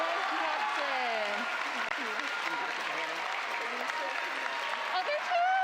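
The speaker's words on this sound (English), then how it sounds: "Have them hold their applause." Audience clapping for an award winner at an academy awards ceremony, a steady moderate round of applause with people talking over it.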